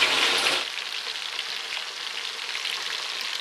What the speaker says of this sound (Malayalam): നമ്മുടെ മലഞ്ഞി തന്നെ വറുക്കാൻ വേണ്ടി വെച്ചിട്ടുണ്ട്